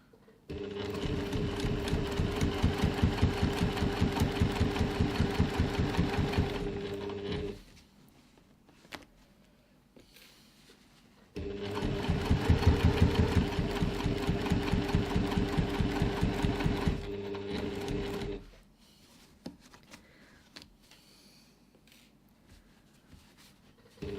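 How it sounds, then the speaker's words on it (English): Sewing machine stitching through thick layers of fabric for a reusable grocery bag, two long runs of fast, even mechanical chatter separated by a pause with small clicks, then quieter handling. "If your machine's struggling with those thicknesses"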